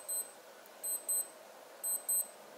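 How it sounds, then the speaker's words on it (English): A NAVIFORCE NF9095 digital wristwatch alarm sounds in quick high-pitched beeps, grouped in pairs and repeating, thin and close against a quiet background. "When reaching the preset time, the watch will alarm for 60 seconds and then automatically stops."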